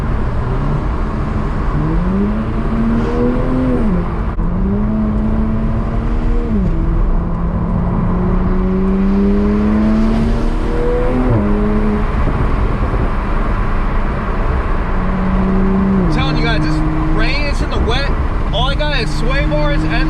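A Toyota Supra with an AWE Touring Black Edition exhaust accelerates through several gears, turbo spooling as the engine tone rises and drops with each shift, loud and close from inside the car.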